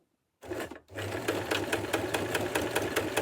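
Sewing machine stitching overlapped cloth panels for a frock: after a brief start and pause, the motor runs steadily with a fast, even needle rhythm, loud and close, with no talking.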